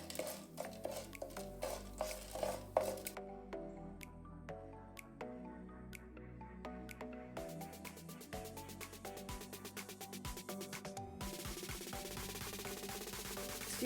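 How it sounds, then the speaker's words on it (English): Urad dal and chana dal fry in hot oil in a pan, giving close, crackling sizzles and soft wet pops, with faint stirring and clinks of a utensil against the pan. "you can add the urad dal, the chana dal, and let them fry a little bit"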